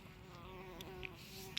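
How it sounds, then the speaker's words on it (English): A bee buzzes faintly, a thin steady drone lasting under two seconds with a few soft ticks and knocks near the end. "Oh, and there's a bee."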